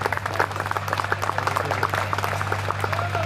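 Audience applause at a Hindi poetry gathering (kavi sammelan) in Hastinapur: dense, steady clapping from a crowd, fairly close and even throughout, over a constant low hum, with no voices.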